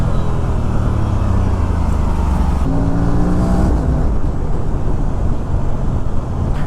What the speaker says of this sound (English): Can you hear the auto blipper sound?